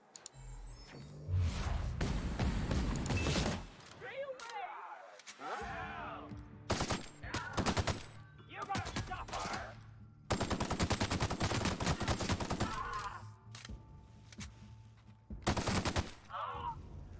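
Gunfire in the sci-fi role-playing game The Outer Worlds, loud repeated volleys and bursts of shots spread across the stretch, broken by brief pauses and occasional sharp single reports, with some talking mixed in.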